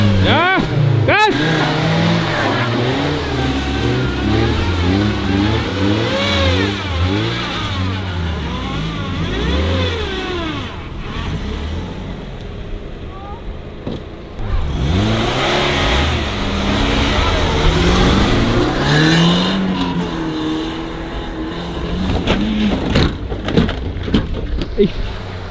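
A small car's engine revs hard and accelerates, its steady mid-range drone rising and falling throughout while people talk loudly over it.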